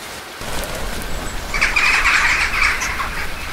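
A bird in the video game Burnhouse Lane chirps and tweets against a steady ambient background, with a brighter burst of calls midway through.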